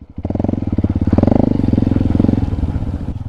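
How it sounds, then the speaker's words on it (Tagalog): A motorcycle engine rumbles close by on a rural mountain road, its rapid rhythmic exhaust pulses loud and steady, rising slightly in pitch as it passes. "may motor dito"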